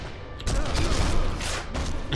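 Gunfire in the co-op sniper shooter Sniper Elite V2, a dense, rumbling fusillade of shots and thuds fired at others nearby, continuous and fairly loud across the whole stretch with no talk.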